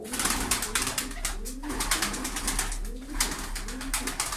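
Tumbler pigeons coo in a low, rolling pattern that repeats a few times, close and moderately loud against a noisy loft background with scattered clicks and rustles.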